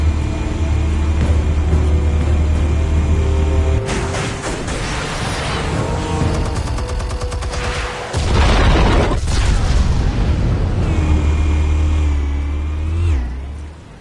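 Explosives detonate in Batman: The Telltale Series: a loud booming blast with a rumbling roar, a sharp break, then another deep rumble that fades out at the end.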